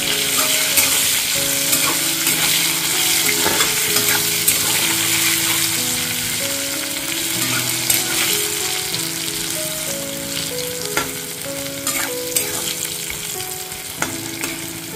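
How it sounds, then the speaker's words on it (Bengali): Potato pieces with half a spoon of turmeric powder and a little salt fry loudly in oil for a Bengali muri ghonto dish, a constant close sizzle with occasional stirring scrapes beneath a steady melodic music bed. "দিয়ে আলুটা ফ্রাই করে নেব।"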